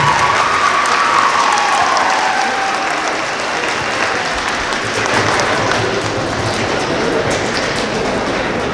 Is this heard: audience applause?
yes